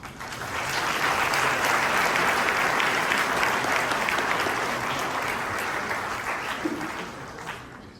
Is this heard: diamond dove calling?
no